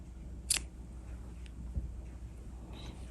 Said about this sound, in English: take our scissors and snip the yarn